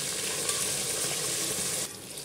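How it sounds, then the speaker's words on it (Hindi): Beef sizzles hard in hot oil in a cooking pot for a biryani, a loud, steady crackle with the scrape of stirring that eases slightly near the end. "जब हमने तेल के साथ गोश्त को अच्छे से फ्राई कर लिया"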